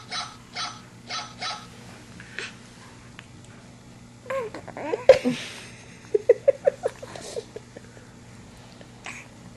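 A dog playing with a toy makes a string of short yips and whimpery sounds amid scattered thumps and faint background noise, loudest in a quick rhythmic run near the end.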